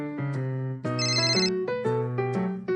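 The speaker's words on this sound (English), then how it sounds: "Oh, my phone's ringing." A phone ringtone plays a bright electronic melody of short repeating tones, loud and close, with no voices over it.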